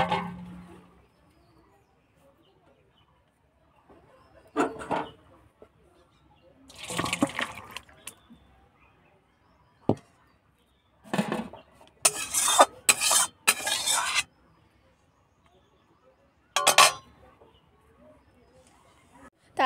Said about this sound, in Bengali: এই যে একটু নেড়ে নিচ্ছি, আর ঢ্যাঁড়সের ঝোল তো অল্প অল্প থাক।